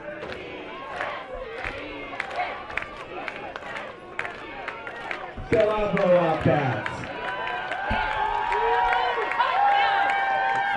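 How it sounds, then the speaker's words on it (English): Crowd noise at a women's pro football playoff game between the Minnesota Vixen and Salt Lake City Wildcats, a steady roar of cheering and shouts with scattered claps, growing louder midway, under continuous play-by-play commentary. "The crowd is definitely still alive, still cheering on the Wildcats."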